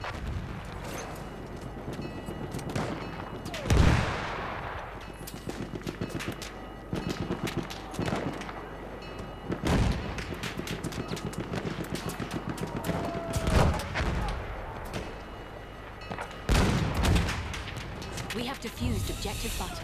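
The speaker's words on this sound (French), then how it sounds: "ça tire tous les côtés" Gunfire crackles from several directions in a Battlefield 1 PC beta match, with repeated shots and heavier bursts spread across a constant busy battle din while someone talks over it.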